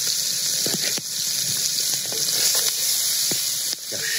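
Onions and sugar sizzling and caramelizing in a hot pan outdoors, giving a loud, steady hiss with occasional stirring scrapes and small pops throughout, and no voices.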